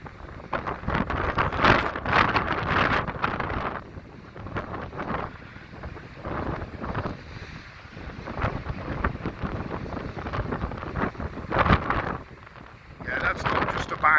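Freezing wind blasts across Blackpool promenade by high waves, heavy gusty rumble battering the microphone in loud surges throughout, with someone talking briefly under it.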